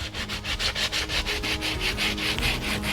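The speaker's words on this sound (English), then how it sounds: "I guess I need to take a piece of hand sandpaper" Hand sandpaper rubbed back and forth over a wooden log, producing a steady rhythmic rasping of about a dozen strokes, close and even in loudness.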